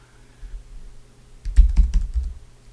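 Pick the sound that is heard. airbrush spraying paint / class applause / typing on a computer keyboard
typing on a computer keyboard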